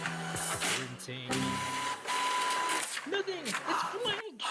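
A printer whirs and clicks through a print job in short mechanical bursts with tonal whines, mixed with a voice that talks over it throughout.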